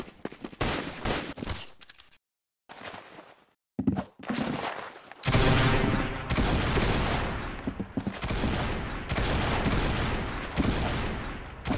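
Rapid gunfire in the Roblox Arsenal shooter game, with bursts of quick shots, a short gap of near silence, then sustained dense automatic fire, loud and close.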